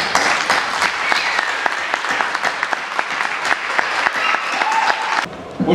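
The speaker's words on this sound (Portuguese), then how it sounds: "Vamos aplaudir aqui." A crowd at a talk on character bursts into sustained applause, many hands clapping steadily and fairly loudly before the sound cuts off abruptly near the end.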